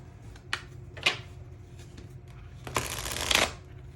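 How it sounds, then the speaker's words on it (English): Tarot cards are shuffled by hand at close range, with a few short riffling flicks and then a longer, louder rushing shuffle near the end, no voices over it. "I think I'm going to pull 4 tarot cards for each group."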